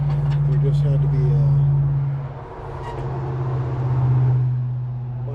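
Road traffic passes by a rural spot: a steady vehicle engine hum swells, dips briefly in the middle, then builds again as more traffic goes past, fairly close and loud.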